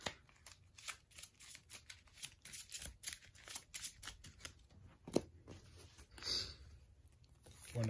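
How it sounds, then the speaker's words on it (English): Cards are shuffled in a rapid series of soft riffling, flicking bursts, fairly quiet and close, with light rustling between them. "and then shuffle your deck"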